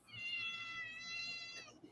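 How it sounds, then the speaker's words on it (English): A pet cat gives one long, drawn-out meow, close and clear, lasting nearly two seconds over faint room noise. "My little cat's coming to say hi."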